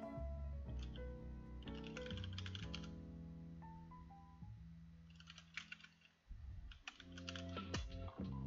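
Keys clatter on a computer keyboard in irregular bursts of typing, quiet and set under a continuous bed of music that plays throughout, with no talk.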